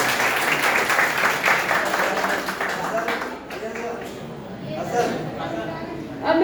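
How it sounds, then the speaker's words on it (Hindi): Applause at a B.Ed. department seminar fills a hall, a dense wash of clapping from the audience that fades and gives way to voices and room chatter. "तालियां बहुत जोरदार होनी है"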